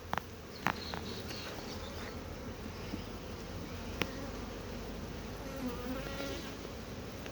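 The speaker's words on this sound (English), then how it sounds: "The bees will be displaced a bit." Honey bees buzzing densely around an opened hive during spring hive maintenance, a steady close drone with a few light knocks and clicks from handling the frames, and no voices.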